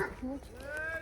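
A village rooster's short clucking calls sound nearby on a farmhouse, brief and slightly warbling, over faint background noise.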